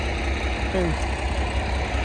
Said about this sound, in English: That's a big tractor really, and that's one hell of a plough.